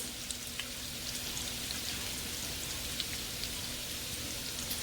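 Asparagus spears sauté in a hot skillet, giving a steady close sizzle of frying with dense crackling pops throughout and no talk.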